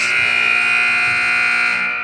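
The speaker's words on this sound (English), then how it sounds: "That's a hard beep." A loud, sustained electronic buzzer at a volleyball match, sounding for about two seconds as a steady harsh tone to start the second set, with no talk over it.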